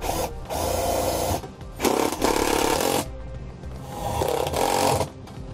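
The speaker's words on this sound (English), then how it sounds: "we'll just use our self-tapping screws to secure it into place" A power driver sends self-tapping screws into a trailer floor to secure a Dexter DX electric-over-hydraulic brake actuator, making loud close whirring bursts of about a second each with short gaps between them.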